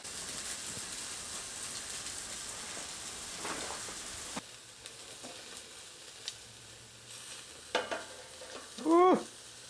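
Porterhouse steaks sizzling on a STOV portable gas BBQ grill, a soft hiss that quiets midway, broken by a few clinks and a short louder scrape near the end.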